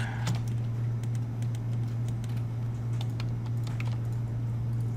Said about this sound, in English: I don't know what I typed in